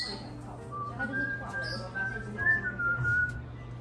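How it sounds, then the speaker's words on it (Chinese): Someone whistles a wavering, rising and falling tune inside a parrot cafe, with bird chirps and low room noise in the background and a voice murmuring faintly. "我边吹口哨，全店的鹦鹉都跟着嗨了起来"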